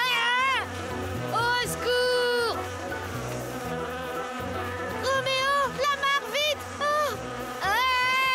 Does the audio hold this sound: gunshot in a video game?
no